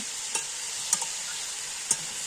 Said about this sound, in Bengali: দুপুরে রান্নার প্রস্তুতি চলছে, রান্না হচ্ছে। এই যে সব রকম সবজি দিয়ে